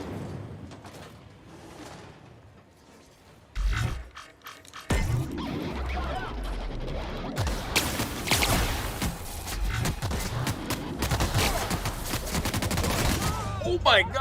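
Enemy gunfire in the video game The Outer Worlds, rapid loud volleys building and continuing throughout after a quieter start, mixed with impacts and other combat noise, with a voice faintly present.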